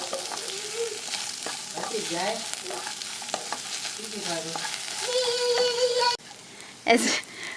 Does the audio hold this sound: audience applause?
no